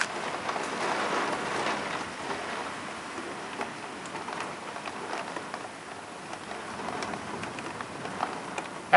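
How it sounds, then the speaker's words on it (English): Heavy rain during a severe thunderstorm, a dense continuous hiss of drops striking surfaces, steady and fairly loud with scattered sharper ticks throughout. "Oh, the rain's coming down now."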